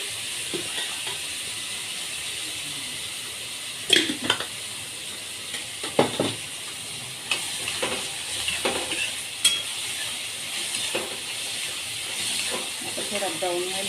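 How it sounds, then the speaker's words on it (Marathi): Onions frying in oil in a pan over a full gas flame, a steady close hiss of sizzling broken by occasional scraping stirs of a spoon against the pan. "बघा कांदा असा चांगला गॅस फुल लावून परतून घेऊ."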